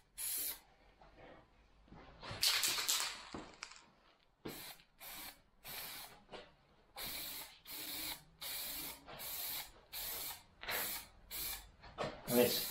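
An aerosol spray can applies paint to a car panel in a garage, giving about a dozen sharp hissing bursts in a steady rhythm with short pauses between passes, close and loud.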